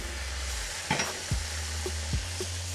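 Beef burger patties frying in a pan for a homemade Big Mac, a continuous low sizzle broken by a few scraping stirs and spatula shuffles, close and alone.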